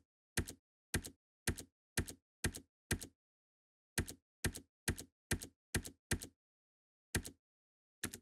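Computer keyboard keys are pressed in crisp, close clicks, about fifteen separate presses in small uneven groups with clean silence between them, entering a VS Code shortcut.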